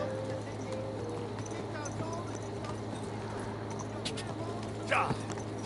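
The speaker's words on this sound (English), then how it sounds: "Go, horsey, go!" A horse gallops in the medieval game Kingdom Come: Deliverance 2, a steady stream of hoofbeats under music and game ambience, with a brief whinny-like cry near the end.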